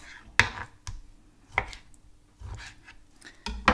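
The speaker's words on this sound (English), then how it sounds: "Let's cut the fat off that bit" A knife chops through raw chicken on a board while trimming off the fat, with several sharp, separate knocks spaced unevenly and quiet rubbing in between, close and clear.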